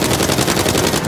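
Dense, loud automatic gunfire in Uncharted 4 during a jungle firefight, rapid shots packed together without a break across the whole moment, no voices over it.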